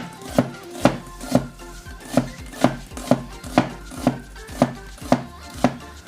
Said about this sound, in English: Now let's cut some onion, see how that is good